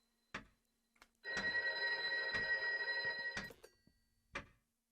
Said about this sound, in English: It literally just started ringing.